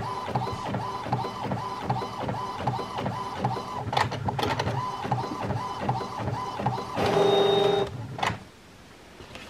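Thermal printer running off logo stickers, a steady close mechanical whir with a repeating rhythmic pulse, brief clicks, then a louder feed sound before it stops.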